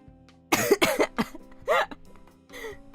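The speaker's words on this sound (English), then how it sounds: "The coughs sound brutal." Several harsh, hacking coughs from a sick person close by, one rough burst after another with short pauses, plus some throat clearing.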